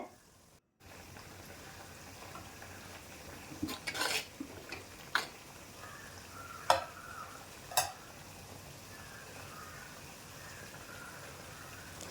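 Squid for a Kerala-style kanava roast stirs in a pan over a faint, steady frying hiss, with a few sharp scraping clinks of a spoon against the metal.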